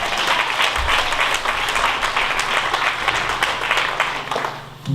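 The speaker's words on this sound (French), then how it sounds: "Applaudis mon Dieu." A church congregation claps during a French-language service, dense and loud, steady applause sustained throughout with a faint low hum underneath.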